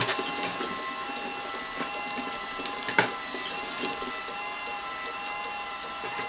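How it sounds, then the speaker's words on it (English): An automatic LAB500 labeling machine applying labels to Megro sterile bags runs with a steady mechanical hum, broken by repeated light clicks and ticks and one sharper knock partway through. "You can regulate the speed here with this button on the bottom here."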